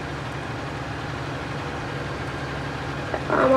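A tractor engine in Farming Simulator 19 idles with a steady, low, droning rumble throughout, close and even, with a slight rise at the very end.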